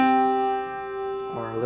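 Solo piano picking out a melody, a few sustained notes ringing together, then a fresh attack near the end as a new note enters over the held tones, close and clear.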